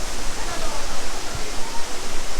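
Water in Serindere Canyon's waterfall rushes in a dense, steady broadband roar, near and loud, filling the scene without pause.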